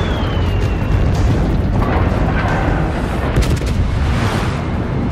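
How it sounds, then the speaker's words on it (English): A 1,000-pound bomb explodes on the Japanese submarine I-70, a loud, sustained rumbling roar of blast and debris with no voices, filling the whole stretch. "The explosion rocks the Japanese submarine, damaging it and preventing it from diving beneath the surface."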